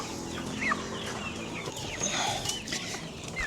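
Pet chickens cluck and chirp softly around a backyard feeding, with several birds making scattered short calls at a moderate distance over a low background.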